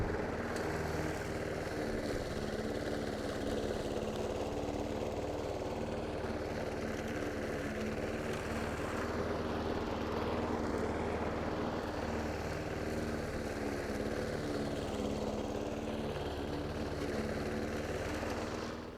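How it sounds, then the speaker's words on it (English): A lawn mower engine drones steadily and loudly while cutting grass in a Southern Maryland yard, the mower deck raised for another pass, with no pauses throughout. "Let's raise that mower up, make another pass, and see if we can make this look better."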